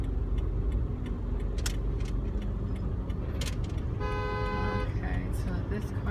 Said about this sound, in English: That car is honking at me right there.